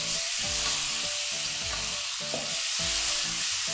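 Fermented pork sausage and egg stir-fry under a constant loud sizzle, with a spatula scraping the pan in regular strokes roughly every half second.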